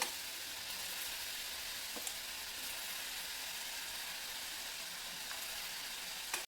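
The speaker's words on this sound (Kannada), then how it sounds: "ಈ ಥರ ಗರಿ ಗರಿಯಾಗಿ ಕರ್ಕೋಬೇಕಾಗುತ್ತೆ." Sev frying crisp in hot oil for vada pav, a steady close sizzle and hiss running throughout with a few faint pops and stirring clicks, no voices.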